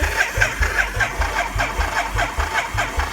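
A Yamaha Virago 500 engine cranks on its starter, a loud close rhythmic chugging of even repeated strokes lasting the whole moment without firing, with no voices.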